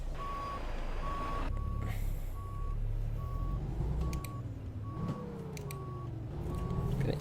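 An International LT truck in American Truck Simulator backs up, with steady evenly spaced reversing beeps over a low engine rumble and a few brief hissing bursts.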